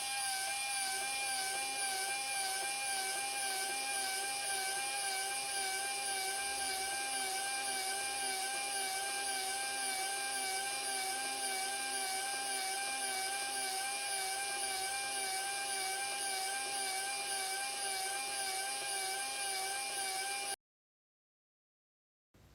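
A small Nezha motor turning a Micro:bit gearbox in low gear gives a steady, continuous high-pitched mechanical whine with a faint rhythmic warble, running unbroken for about twenty seconds before cutting off abruptly into silence.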